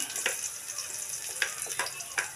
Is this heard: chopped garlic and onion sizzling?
yes